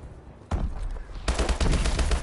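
Gunfire in the video game Call of Duty Advanced Warfare, loud dense bursts of rapid shots that turn into a heavier continuous barrage partway through, with no voices over them.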